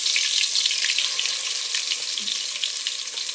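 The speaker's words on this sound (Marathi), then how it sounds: "आणि आता ही गिरवी आपल्याला चांगलं तेलामध्ये तळून घ्यायचं आहे." Ground spice paste fries in hot oil for a fish curry, a bright continuous sizzle, close and fairly loud, with a faint stir or two and no voices.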